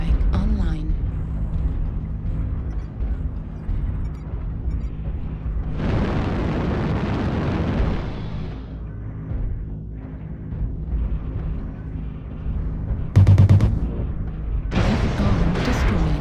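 Airstrike explosions in a MechWarrior-style online video game on a canyon map, heard as several booming blasts, with a long rumbling burst in the middle and sharper hits near the end, over steady in-game background noise.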